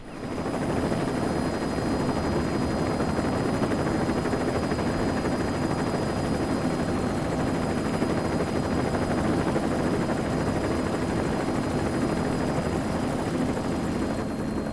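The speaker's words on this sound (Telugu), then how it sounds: "హెలికాప్టర్ వచ్చింది, త్వరగా అందరినీ బస్సులో నుంచి దించండి" A helicopter arrives in a tense crime-drama scene, its rotor and engine a loud, steady, unbroken drone throughout with no voices.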